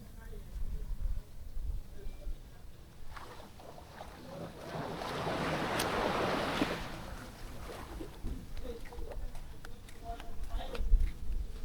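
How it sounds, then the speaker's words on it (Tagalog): Ocean waves wash and crash at a moderate distance on the shore at Lemery, Batangas, with one fuller surge in the middle and a steady background rush around it. "Yung hampas ng alon."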